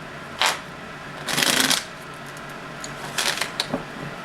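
Tarot cards being shuffled by hand, three quick riffling bursts of crisp papery flutter, the longest in the middle, close and clear with no talking.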